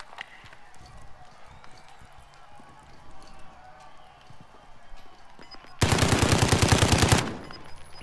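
A loud machine-gun burst rips out near the end of a Call of Duty Modern Warfare match, a rapid string of shots lasting about a second and a half, after quieter game ambience and a few low voice murmurs.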